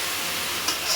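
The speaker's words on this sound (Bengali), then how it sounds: "মশলাটা আমার এই যে সুন্দরভাবে কষা হচ্ছে" Masala paste with turmeric and a splash of water sautéing in a pan, a steady soft sizzling hiss over about a second with a brief stir near the end.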